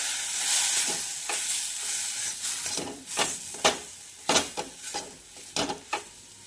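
Wheat flour with a splash of milk being stirred and roasted in a pan for laddoos, giving a soft steady sizzle with scraping spoon strokes that turn into several sharp, separate scrapes and taps toward the end.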